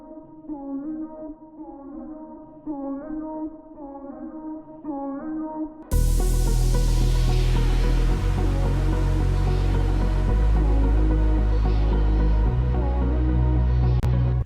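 A voice sings a melodic line, then an abrupt, very loud burst of dense, washing sound takes over. Two powerful delay effects smear the vocal into a sustained roar that fills the remainder.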